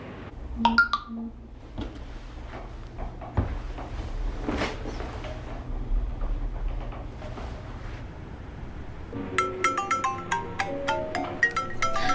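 A phone ringtone breaks in near the end as a bright repeating electronic melody, loud and close, following a stretch of quieter room sounds and soft background music.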